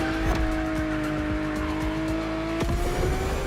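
Lamborghini Aventador with Liberty Walk custom styling driving in The Crew Motorfest video game, a steady high engine drone that shifts pitch slightly, with tire noise and a brief gear-change blip near the end, loud and close.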